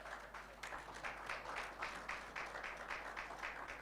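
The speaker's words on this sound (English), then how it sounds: "Can we give him a round of applause?" Steady applause from an audience at an international energy lawyers' conference rolls on without pause, a soft, diffuse patter of many hands heard at some distance.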